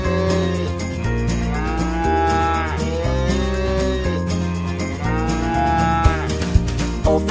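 A cow moos loudly in several long, drawn-out calls with short breaks between them, close and clear and set against a children's song backing.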